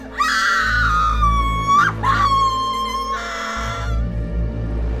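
A woman's long, loud scream in an audio drama, rising and wavering for several seconds, broken by a short gasp and then a second drawn-out cry over a deep droning music bed.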